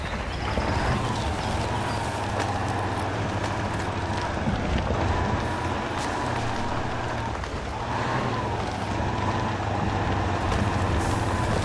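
Utility truck in the Spintires off-road game grinding over rough terrain in fifth gear, a steady loud engine drone with rumbling low end and wavering pitch, close and continuous with no talk.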